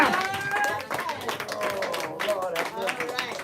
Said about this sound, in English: Give her a round of applause, man.